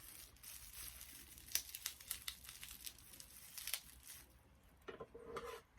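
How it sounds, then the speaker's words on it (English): Bubble wrap crinkles and rustles softly at close range during a makeup box unboxing, with irregular crackling handling sounds and a quieter stretch near the end. "this is in a little bubble wrap."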